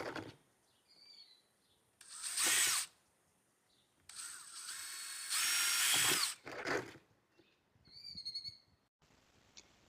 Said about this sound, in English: I am going to drill some holes in this